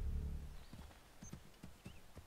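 Hooves clip-clop in an uneven walking rhythm from a horse in Assassin's Creed III, fairly faint and close, over a quiet low background.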